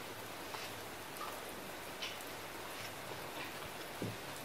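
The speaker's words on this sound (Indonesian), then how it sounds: "di sini hujan gede banget" Heavy rain falling steadily, a dense even hiss of drops on surfaces with occasional nearer splats, no voices.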